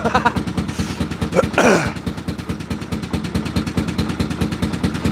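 Canal boat engine running steadily with a fast regular throbbing beat, close and fairly loud, during an early morning cruise, with a brief cough or throat-clear near the start.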